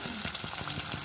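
Curry leaves and dried red chillies sizzle in hot tempering oil with mustard seeds, giving a steady close crackling hiss broken by small pops, with no talking.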